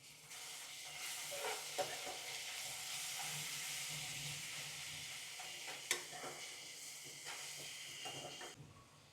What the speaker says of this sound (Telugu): ఒక స్పూన్ అల్లం వెల్లుల్లిపాయ పేస్ట్ వేసుకుని పచ్చివాసన పోయేంత వరకు ఫ్రై చేసుకుందాం